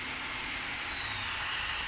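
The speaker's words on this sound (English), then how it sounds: "We noticed we had a vacuum leak. You kind of hear a whistle." Steady loud engine roar with a thin, high whistle from a vacuum leak running through it, constant and close.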